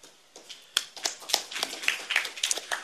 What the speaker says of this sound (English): Let's give a big applause to General Pan.